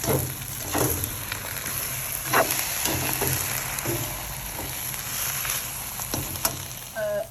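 Liang leaves and egg stir-fry in a pan with a continuous crackling sizzle broken by occasional stirring knocks and scrapes, close and fairly loud.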